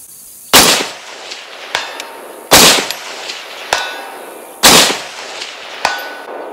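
An M1A Scout rifle fires at steel targets outdoors: three loud, evenly spaced shots, each followed by sharp metallic clangs ringing off the steel, with lighter pings between them.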